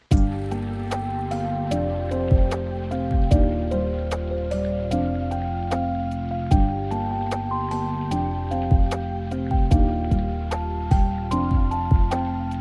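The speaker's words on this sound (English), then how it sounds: "Finally, just some rain and torque sounds to give it that lo-fi atmosphere" A rain sound effect with soft drips and a hiss of falling drops is mixed low beneath a mellow lo-fi hip-hop beat. Steady piano chords and bass play throughout, and the rain stays in the background.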